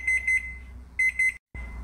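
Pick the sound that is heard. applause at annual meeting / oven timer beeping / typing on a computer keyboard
oven timer beeping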